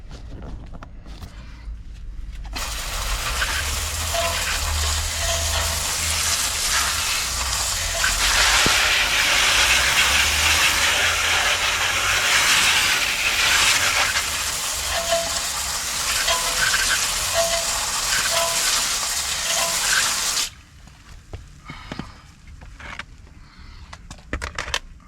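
Water spray rinsing a car wheel rim and hubcap after a wheel cleaner, a loud steady hiss for about eighteen seconds that cuts off abruptly, leaving faint scattered drips and knocks.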